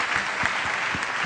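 Brief, steady round of applause from an audience at a business conference session in Peru, an even patter of many hands clapping at moderate volume.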